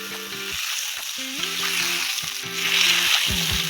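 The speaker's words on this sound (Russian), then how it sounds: "Когда мясо пожарится до золотистой корочки, вытаскиваем его" Chunks of meat sizzle loudly in melted fat inside a hot kazan over an outdoor fire, a steady close crackling hiss with occasional stirring knocks and a deep humming tone underneath.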